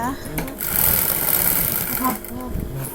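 A sewing machine stitching fabric face masks, its needle running in a rapid, steady mechanical chatter close by, pausing briefly, with someone speaking over it.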